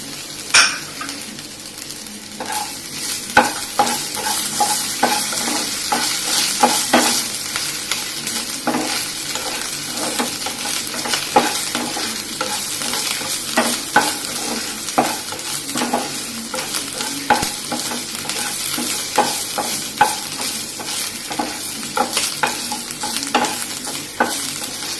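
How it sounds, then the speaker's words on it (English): Finely chopped garlic and ginger sauté in a pan for an aloo curry, a steady close sizzle broken by frequent scraping stirs of a utensil. "Saute it for a few seconds. Add the chopped garlic and the ginger."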